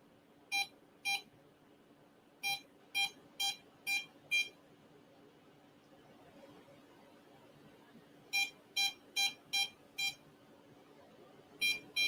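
A phone gives off clusters of sharp, high electronic beeps, several in quick succession, then a pause before the next group, over a low steady hum in a quiet room at night.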